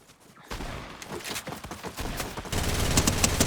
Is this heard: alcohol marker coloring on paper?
no